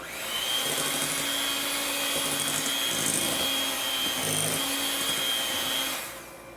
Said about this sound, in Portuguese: com essa batedeira de mão, eu também consigo bater massa de bolo